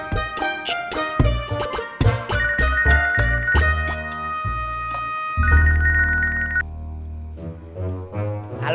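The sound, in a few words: telephone ringing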